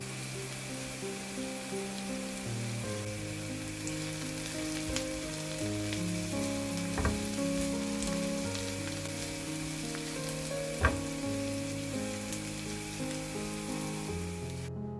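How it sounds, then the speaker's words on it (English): Carrot and mixed vegetables simmer and lightly sizzle in a pan, giving a steady soft crackle with a couple of sharp clicks from utensils, quiet and continuous with no talking. "Simmer the vegetables until tender."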